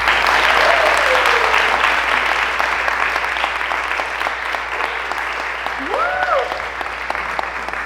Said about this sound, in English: So let's give everyone a clap.